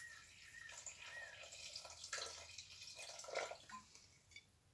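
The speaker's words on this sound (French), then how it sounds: "Vous ajoutez un demi-litre d'eau." Half a litre of water poured into a Thermomix bowl, a steady splashing, trickling stream that runs without a break and rises and falls in strength, with no talk over it.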